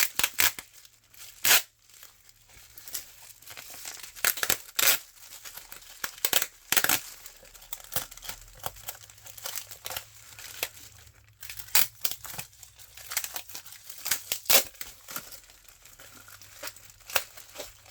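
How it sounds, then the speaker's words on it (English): Packing tape being pulled and peeled off a plastic-wrapped mail package makes close, irregular crinkling and sharp tearing rips, with bursts of rustling throughout and no speech. "I'm going to pull off some tape."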